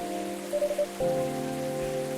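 Rain in the video game Coffee Talk: a steady, soft hiss of rainfall under sustained tonal music, with no clear breaks.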